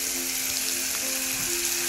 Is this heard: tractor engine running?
no